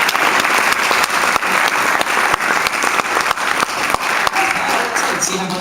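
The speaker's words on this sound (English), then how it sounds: "Give him a big round of applause." An audience applauds a presenter, a loud, continuous round of clapping with sharp individual claps standing out, lasting several seconds before trailing off.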